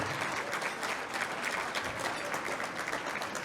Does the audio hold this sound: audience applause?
yes